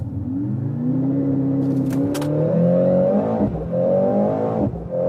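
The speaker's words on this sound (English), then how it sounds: "Mercedes C63 AMG, race start." Mercedes C63 AMG, a 2023 C63 S E Performance, launching from a race start: engine note climbs in rising sweeps through gear changes, loud and close, with a brief dip between shifts.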